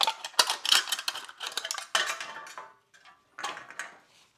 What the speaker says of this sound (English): Would you cut through a pop can